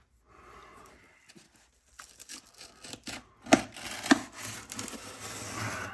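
Package from Dubro being opened, with scattered crinkling, rustling and tearing of packaging up close, including a few sharper tears and handling noises.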